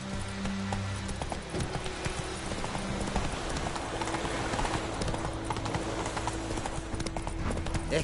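Horse hooves clip-clopping at a steady gallop in The Witcher 3, continuous and fairly close, with occasional faint snorts over a low ambient bed and no clear speech.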